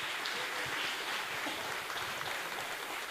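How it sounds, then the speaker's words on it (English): An audience at the Royal Opera House applauds to welcome a band onto the stage, with dense, steady clapping at moderate volume throughout. "Ladies and gentlemen, please give them a big round of applause to welcome them on stage."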